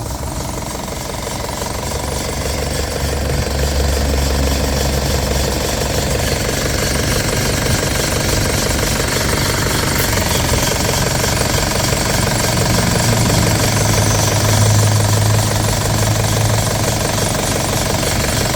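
A four-door Isuzu D-Max pickup truck engine runs steadily up close, a loud rattling, knocking idle that holds throughout without any talking.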